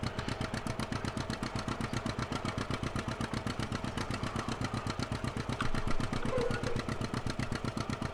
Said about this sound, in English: But this tractor is certainly working okay on this seeder